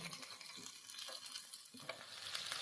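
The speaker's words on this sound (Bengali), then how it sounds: "বেগুনগুলো দিয়ে আবার মিনিট দুয়ে ভালো করে ভেজে নিচ্ছি" Chopped eggplant frying over a medium flame in a pan for Bengali shukto: a close, continuous sizzle broken by scraping stir strokes.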